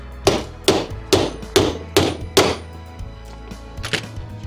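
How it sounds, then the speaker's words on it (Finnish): A hammer strikes a socket used to drive a part on a Vespa GT200 Keihin CVK carburetor and bearing job, six evenly spaced loud metallic blows followed by two lighter taps, close up in a workshop. "jos isketään tosta"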